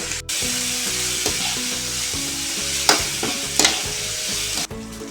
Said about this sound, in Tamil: தூள் உப்பு போட்டு வதக்கிட்டால் நல்லா சீக்கிரம் வதங்கிடும்